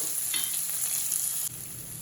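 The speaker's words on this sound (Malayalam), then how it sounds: "ഇനി ഇതിലേക്ക് ചെറുതായി അരിഞ്ഞ് വെച്ച ഇഞ്ചി ഇട്ട് കൊടുക്കാം." Finely chopped ginger dropped into hot oil with dried red chilli for a Kerala-style tomato pulissery, crackling into a bright, close sizzle with a slight scrape, then easing a little toward the end; no voices.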